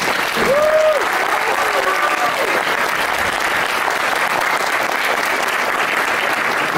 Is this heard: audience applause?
yes